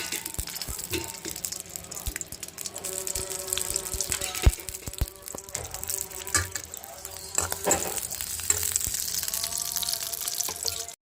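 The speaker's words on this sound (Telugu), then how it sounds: "మిర్చి కూడా ఒక నాలుగు వేసేసుకొని వీటిని కూడా బాగా ఫ్రై చేసేసుకుందాం ఆయిల్లో" Peanuts and green chillies fry in hot oil with a steady, crackling sizzle and scattered spits and pops that continue for the whole stretch. Occasional voices sound faintly underneath.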